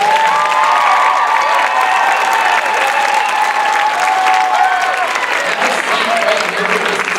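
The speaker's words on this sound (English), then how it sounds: "So let's have another round of applause." Loud, sustained applause and cheering from a live audience at a show, many hands clapping close and dense with shouts and whoops rising through it, and a few voices calling out over the crowd.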